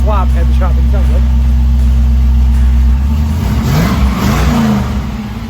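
An Oldsmobile F-85 swapped with an LS1 V8 rumbles loudly close by, its deep idle giving way to a few quick rising revs toward the end.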